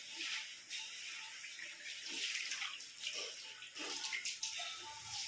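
Water rushes and splashes steadily as a dusty home is washed down during house cleaning, a continuous close wet spray with small surges and no voices.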